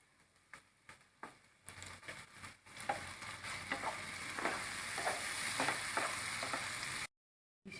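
Thin vermicelli roasting and being stirred in a pan for South Karnataka style upma, with steady sizzling and repeated scraping stir strokes close by; a few sharper clacks open the clip, and it cuts out briefly near the end.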